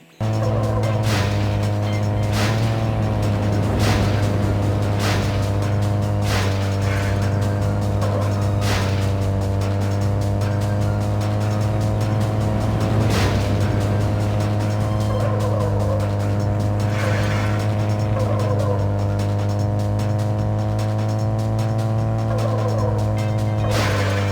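Racing in Need for Speed: Most Wanted (2005) on a handheld: a steady, loud engine drone runs throughout, with repeated sharp tire squeals, skids and crash impacts breaking in at intervals.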